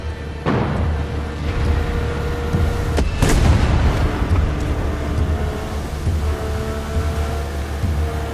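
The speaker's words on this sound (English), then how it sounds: "Check out the fireworks! It's beautiful, isn't it?" Fireworks burst in the video game Far Cry 6, a series of booming explosions over a rumbling background, with one loud, sharp crack near the middle and fainter pops and whistles around it.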